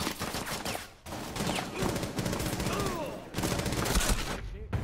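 Rapid gunfire rattles through a round of the video game Rainbow Six Siege, dense bursts of shots over several seconds with brief gaps, moderately loud beneath game sounds and voices talking.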